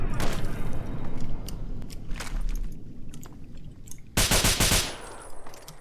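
Enemy weapon fire in a modded Fallout 3 battle against an Enclave trooper comes in bursts, with rumbling rapid shots early on and a louder, sharper volley of quick shots near the end, plus scattered impacts between.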